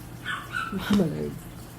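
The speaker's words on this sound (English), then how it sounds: "My dog." A pet dog gives a short, muffled yelp or whimpering bark, faint and close by, with a voice murmuring at the same time.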